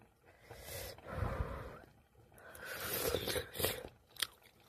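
Someone eats a simple fresh cod soup seasoned only with salt, making soft close slurps, sips and chewing sounds in several bursts, with a small click near the end and no talk.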